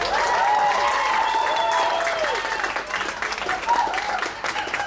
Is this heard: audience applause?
yes